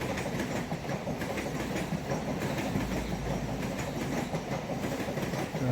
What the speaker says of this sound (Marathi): पण ही एक्सप्रेस ट्रेन आहे, कारण ती दूरून आलेली आहे. ही निघाल्या बघा सेंट्रल लाईनमध्ये.